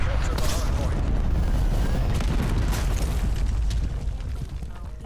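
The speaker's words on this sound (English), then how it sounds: "Cruise missile inbound." A cruise missile strike in a video game lands as a loud, sustained rumbling explosion with crackling debris, the roar filling the whole stretch before easing slightly at the end.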